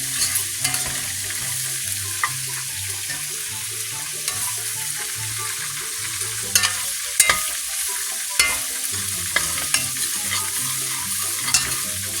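A utensil stirs slurry into a frying pan of smothered fried pork chops, giving a steady sizzle with scattered scraping clicks and knocks throughout, close by and without talk.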